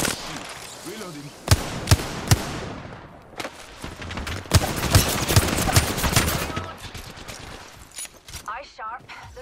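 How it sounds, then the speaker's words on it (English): Gunfire from bomb bots in a video game, with sharp scattered shots and short bursts of rapid fire over a busy backdrop, as a voice talks over parts of it. "Your bomb bots are shooting at me."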